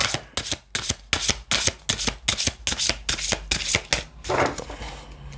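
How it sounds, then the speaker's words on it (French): Tarot cards are shuffled by hand close up in a quick riffle, a rapid run of a dozen or so crisp flicks and slaps, ending in a softer final shuffle with no voice. "on va euh, vous tirer une petite carte"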